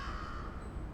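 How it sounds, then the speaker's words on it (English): Cartoon crows caw harshly in a short, dense burst of squawking as they flap away, loud and close. "With a flap and a squawk, the crows flew away."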